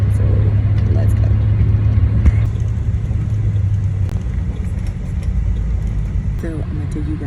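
Inside a bus riding from Miami airport to the cruise dock, a low engine rumble and road noise run continuously while a voice talks over it.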